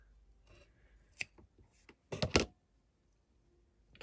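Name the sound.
scissors cutting paper pieces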